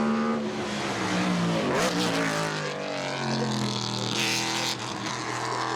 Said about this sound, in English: is NASCAR level V8. It's like it's ripping through reality. High revving and nasty